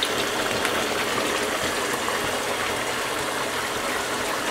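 Hot tempering (baghar) goes into a pot of moong dal, giving a steady, loud sizzling hiss that holds evenly for several seconds with no voices.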